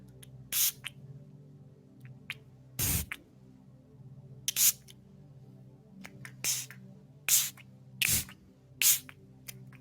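A small spray bottle giving about eight short, sharp hissing spritzes at irregular intervals over a quiet background hum.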